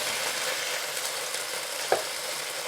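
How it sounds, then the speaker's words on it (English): Steady, bright sizzling of chicken stir-frying in a hot pan, continuous and fairly close, with a brief clatter of stirring near the end. "start moving our chicken around and actually stir frying it"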